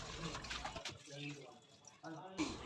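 Goat intestines rinsed by hand in water, with splashing and sloshing under a speaking voice, close and moderately quiet.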